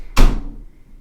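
A child knocks on a door at home with a single sharp, close thud that rings briefly and fades, heard alone.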